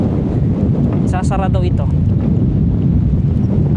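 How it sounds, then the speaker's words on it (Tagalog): Strong wind buffets the microphone in a constant low roar at the Intang View Deck hanging bridge, Pantabangan Dam, Philippines, with a brief snatch of speech partway through. "ang lakas ng hangin talaga"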